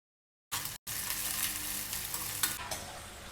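Dried fish pieces frying in a pan, with a continuous crackling sizzle and occasional stirring scrapes that start abruptly after a short silence and break briefly, close and steady with no voices.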